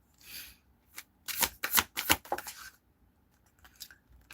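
A deck of tarot cards being shuffled up close, a few quick riffling bursts and soft flicks with short pauses between them, heard alone without any talking.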